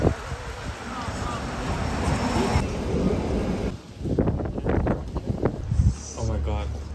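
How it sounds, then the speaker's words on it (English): Strong wind buffets the microphone with a loud, rumbling roar, and people's voices come through beneath the gusts in the second half. "It is very windy, as you can see."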